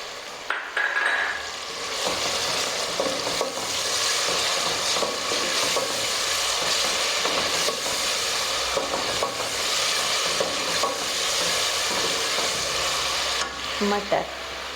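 Ginger and garlic fry in a pan for dhaba-style matar pulao, a constant close sizzle broken by spoon stirring and metal scraping against the pan, without speech.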